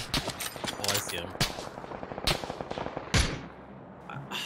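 Gunshots in the battle royale game PUBG crackle in a rapid, uneven string of sharp reports, some closer and louder than others, over a constant bed of quieter rattling fire, with a voice talking over it.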